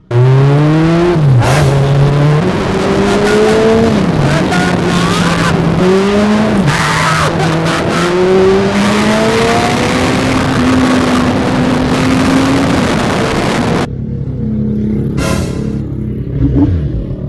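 Motorcycle engine revved hard on a street in the Philippines, loud and close, with rising and falling pitch sweeps as the throttle is worked repeatedly, then cutting to a lower idle near the end.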